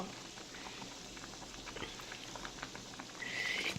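A pot of Korean pumpkin kaeng liang soup with shrimp boils on a stove, a soft, steady bubbling and pattering that stays fairly quiet and rises a little louder near the end.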